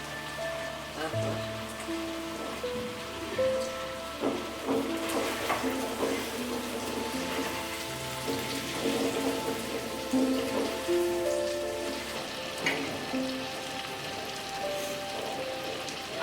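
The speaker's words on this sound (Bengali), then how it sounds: "মাংসটা একটু ভালো করে কষাতে হবে" Chicken pieces with tomato and capsicum sizzle and crackle steadily in a hot pan, a close, continuous hiss with occasional stirring clatter and pops.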